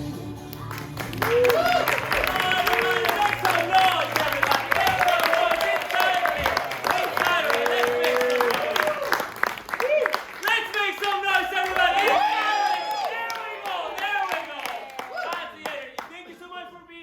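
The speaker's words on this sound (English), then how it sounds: "Give yourself a round of applause." Applause and cheering from a live improv comedy theater audience welcoming the show's host, a dense sustained wash of clapping and voices that swells, dips slightly midway and continues to the end.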